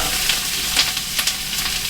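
Two onions and a pound of carrots sauté in a pot with a brief, loud, close hiss, broken by a few sharp scraping stirs.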